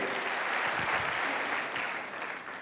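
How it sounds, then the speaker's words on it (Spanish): Audience applause at a motivational talk, a short burst of crowd clapping heard at a distance, fairly soft and steady before tapering off. "el aplauso va para ustedes"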